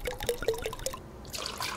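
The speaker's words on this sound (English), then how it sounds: "Now in the mixing glass, add our main ingredient, a peanut butter whiskey screwball." Peanut butter whiskey poured from a bottle into a mixing glass for a pumpkin old fashioned, a short glugging, trickling pour with bubbly liquid notes, close and quiet.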